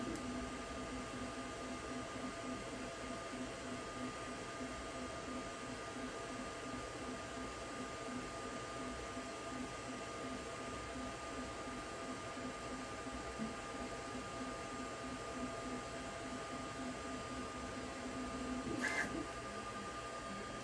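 A Sovol SV08 3D printer runs steadily during a calibration print, its motors giving a quiet, even hum with a fine rapid stutter, close by and faint, ending in a brief higher whine near the close.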